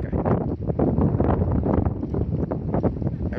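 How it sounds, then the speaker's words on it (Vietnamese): Strong coastal wind at Eo Gió buffets the microphone in loud, continuous rumbling gusts with rustling bursts, close and with no voices. "Cũng phải nói là đây thì gió khá lớn"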